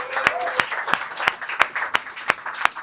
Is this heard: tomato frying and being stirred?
no